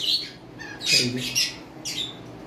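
Caged birds on a bird farm give several sharp, shrill squawks in quick bursts, close and loud, with faint background noise between calls.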